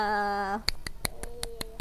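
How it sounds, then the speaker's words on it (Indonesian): A teacher speaks briefly in Indonesian in a science class, then about seven sharp hand claps follow in a steady, evenly spaced rhythm, close by. "sekarang beri tepuk tangan untuk kita semua"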